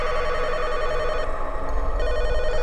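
A telephone rings continuously in an abandoned Arizona motel room, its bright electric bell tone steady and loud over a low rumble, with no voices.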